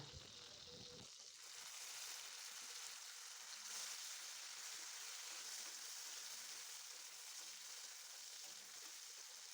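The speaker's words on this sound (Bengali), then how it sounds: "এই তেলের মধ্যেই আমি এখন দিয়ে দিচ্ছি পাঁচ ফোড়ন আর তার সাথেই দিয়ে দিচ্ছি কুচি করে রাখা টমেটোটা" Chopped tomato and five-spice hit hot oil in a pan and sizzle steadily, a dense, continuous hiss that starts abruptly and holds fairly loud and close.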